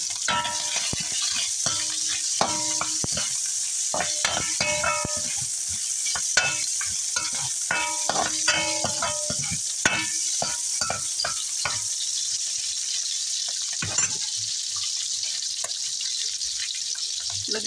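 Pork fat sizzles steadily in a pan as it renders into oil for palabok sauce, a continuous close frying hiss broken by frequent clatter of a utensil stirring and scraping the pan.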